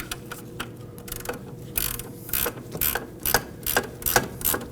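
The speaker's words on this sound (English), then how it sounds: "The upper bracket bolt is difficult to get to because of the strut bolt, so it's best to use a wrench." A wrench ratchets on the upper bracket bolt of a Subaru Impreza front wheel hub, a series of quick metallic clicking bursts repeating about every half second, close up and alone.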